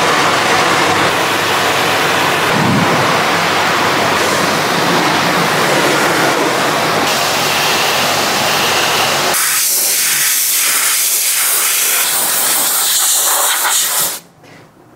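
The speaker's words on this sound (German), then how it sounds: "und dann gehen wir mal mit dem Dampfstrahler drüber." A steam pressure washer blasts car paintwork in a contactless wash, giving a loud, steady hiss that runs for most of the clip, changes character partway through, then cuts off abruptly at the end.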